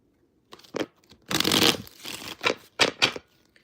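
A deck of tarot cards is shuffled close up in a reading setting: brisk papery riffles and scraping bursts, one longer sweep followed by a few quick flicks, with no talking.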